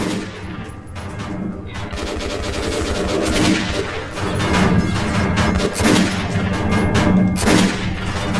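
Gunfire in the video game Metro 2033 Redux, including a revolver, heard as dense, loud repeated shots and booming impacts over a continuous battle din, with no pause in the noise.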